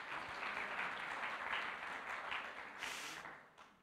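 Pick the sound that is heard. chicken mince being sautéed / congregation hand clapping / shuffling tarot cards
congregation hand clapping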